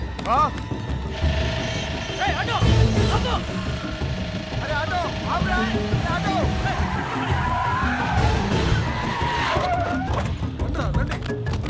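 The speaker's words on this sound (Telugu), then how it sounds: "ఆటో వెళ్ళిపోతుంది" An auto rickshaw pulls away with a steady, buzzing engine rumble that runs through the whole stretch, mixed with voices and tonal background sound.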